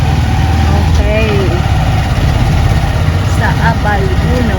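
A tricycle motor idles close by in a steady low rumble, while voices talk over it and traffic noise fills the background.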